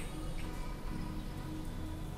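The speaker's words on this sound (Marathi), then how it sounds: "फोडणी छान आपली तडतडली आहे" Mustard seeds crackle and pop in hot oil during tempering for a jowar dosa chutney, a dense steady sizzle with fine irregular spits throughout, close and fairly loud, with no talk.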